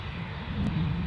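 British Airways Airbus A320 jet departing, a steady loud engine roar swelling slightly toward the end of a brief moment, with no other sounds.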